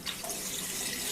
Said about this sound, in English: So I'm draining my 6th load of water.